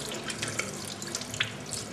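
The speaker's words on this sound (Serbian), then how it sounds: "Puštamo toplu vodu." Hot water runs from a tap in a steady, close splashing stream, with a few faint drip-like ticks and no voices.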